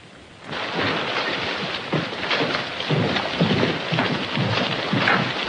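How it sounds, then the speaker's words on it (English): A thunderstorm with steady heavy rain and wind, a dense hiss throughout with low thunder rumbles swelling in the second half, fairly close and continuous, with no voices. "that depends on how long the storm lasts"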